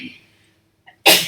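A woman sneezes once, a short sharp burst after a faint intake of breath, close and loud.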